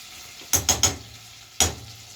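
A cod fillet cooking in lemon butter in a pan gives a steady sizzle, broken by a quick cluster of three sharp clinks or scrapes and then one more a second later, all close and without talk.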